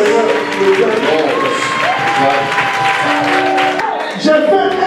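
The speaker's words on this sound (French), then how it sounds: "j'aimerais qu'on applaudisse" An audience at an international church convention in Côte d'Ivoire claps and cheers, a broad crowd applause rising under a loud amplified speaking voice that continues throughout.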